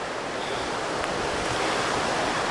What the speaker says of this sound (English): 10 Mile River, it's a beaut.